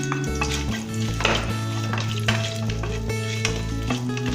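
Whole cardamom, cloves and cinnamon sticks sizzle in hot butter and oil for a butter chicken, a steady close frying crackle with soft stirring and pan clinks throughout, no talking.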